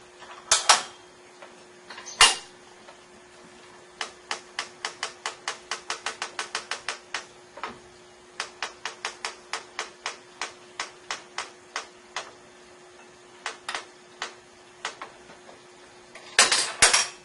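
A longarm quilting machine stitching with a paper pantograph, producing a steady run of sharp mechanical ticks in quick bursts, with a few louder clunks at the start and end.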